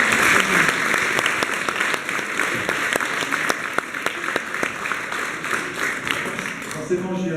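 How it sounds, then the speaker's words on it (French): Sustained audience applause at a Sainte-Barbe celebration in Barentin, a dense, steady wash of clapping with a few sharper individual claps standing out, continuing evenly for several seconds. "On peut l'applaudir, on peut l'applaudir."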